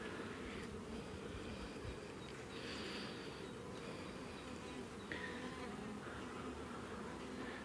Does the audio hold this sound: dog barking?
no